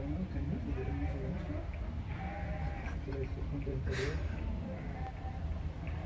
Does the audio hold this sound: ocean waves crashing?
no